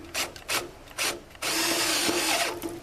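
A driver runs set screws in to secure a loose downspout. Three short ratcheting whirs come close together, then one longer continuous grinding burst, all near and fairly loud.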